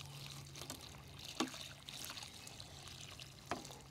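Water poured onto a newly planted peony in a garden, a soft steady trickle with a few faint splashes, heard quietly and without talk.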